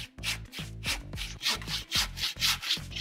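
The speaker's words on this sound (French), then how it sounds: "On prend cette scie-là, on appelle ça une scie à dos." A back saw cutting through wood in steady rhythmic strokes, a rasping push-pull about three times per second, close and loud with no voices.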